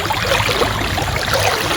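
A swift river current rushes loudly and steadily close by, a constant broadband roar of flowing water with no pauses.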